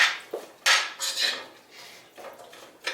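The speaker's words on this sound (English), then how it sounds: "Stir that around. Let the oil kind of melt around all the onions." Onions and melting coconut oil stirred in a pan on a stovetop set to medium, a spoon clinking and scraping against the pan in quick, uneven bursts close by, with no talk.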